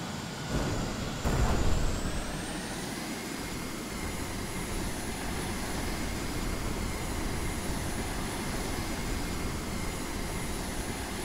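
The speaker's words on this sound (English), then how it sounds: "Show you how I strafe an airport." Aircraft engine drone during a strafing run on an airport in the video game Carrier Command 2, a steady loud whine and roar that holds constant throughout with a brief swell near the start.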